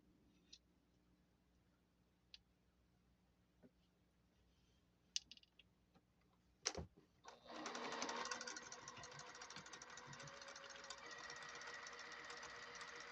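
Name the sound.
sewing machine sewing half square triangles for a quilt top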